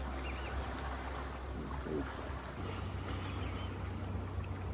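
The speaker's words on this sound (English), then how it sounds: "Some boats pass and just cause some huge waves" Water sloshes and laps faintly against a boat on choppy water from passing boats' wakes, with a low engine hum and wind in the background, in Nicaragua.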